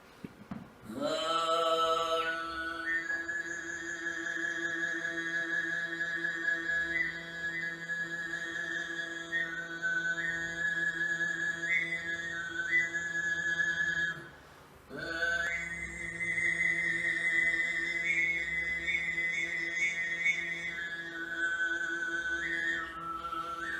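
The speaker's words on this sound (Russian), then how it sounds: "Сагат звучит в высоком регистре. Сагат переводится как свист." A throat singer performs sygyt, the high whistling style, holding a steady low drone topped by a piercing flute-like overtone melody that shifts between pitches, with one brief breath pause midway.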